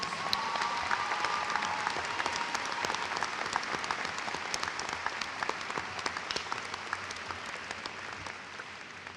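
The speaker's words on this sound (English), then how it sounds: "could we have another round of applause for them, please?" A large commencement audience at a university graduation ceremony applauds the student speakers, with steady, dense clapping filling the hall for the full stretch at an even loudness.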